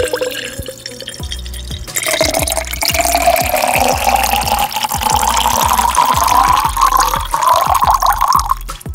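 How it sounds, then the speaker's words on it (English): Bottled water poured into a hydrogen water generator, a steady close liquid pour with a rising gurgling pitch as the container fills, preceded by a brief rustle. "let's get that ASMR water pour shot"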